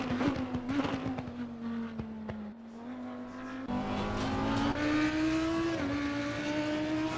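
An Audi EVO2 GT3 race car laps Oulton Park in Assetto Corsa Competizione. The engine holds a steady, droning tone that rises and dips through gear changes. It is loud and continuous, with a brief lift partway through.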